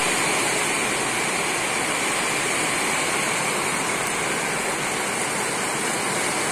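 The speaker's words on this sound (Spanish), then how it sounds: "¡Cómo jarrea agua!" Heavy rain pours down in a steady, dense roar that stays loud and unbroken throughout, with no voices over it.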